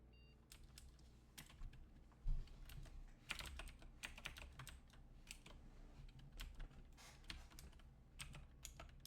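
Keys clatter on a computer keyboard in the video game Blue Prince, a quick irregular run of soft clicks that carries on steadily, faint and alone.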